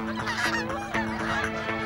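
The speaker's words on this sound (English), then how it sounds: "The local geese are heading south to safety." Wild geese honking close by, a rapid series of loud, nasal calls overlapping in a short burst with no speech, at an outdoor site.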